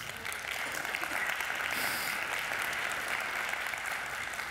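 A church congregation applauds during a sermon, a sustained and fairly soft wash of clapping heard from within the room, steady throughout with no voices over it.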